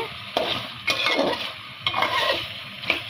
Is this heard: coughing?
no